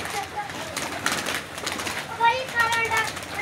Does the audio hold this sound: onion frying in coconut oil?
no